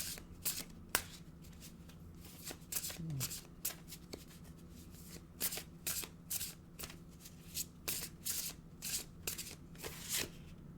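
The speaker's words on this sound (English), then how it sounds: "Let's get one of these celestial cards, these super cool oracle cards" Celestial oracle cards being shuffled by hand, with quick riffling bursts and soft slaps repeating throughout, close and clear, while a person talks over them.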